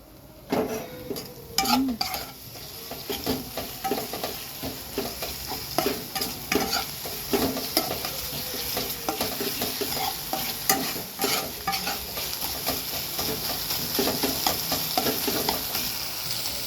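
Chicken and potato pieces fry in a pan while a spoon stirs them, repeated scraping knocks over a constant close sizzle.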